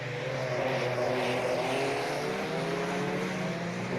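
A Porsche Group C race car in a 1990s-era racing game roars continuously at full throttle, a loud, dense engine note holding steady with slight pitch shifts and no voices.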